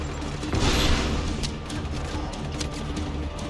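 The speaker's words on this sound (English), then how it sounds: "Who's shooting?" Sustained video game gunfire, a dense volley of shots rattling on for several seconds at steady volume, with sharp cracks scattered through a constant battle din.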